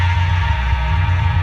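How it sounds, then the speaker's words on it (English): A sampled instrument built entirely from recorded fire pit sounds plays a sustained low, droning tone with a throbbing pulse, steady and loud throughout with no voices. "every sound you're hearing is entirely made from that fire pit"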